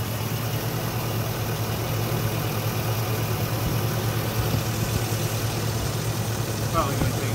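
Low, steady engine rumble of a car with an Isuzu 4L30E transmission idling close by throughout, with a constant hum and slight vibration.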